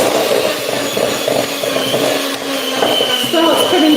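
An electric whisk whirs loudly and steadily as it mixes buttercream for a carrot tray bake cake, a close mechanical drone with shifting pitch and a voice talking over it.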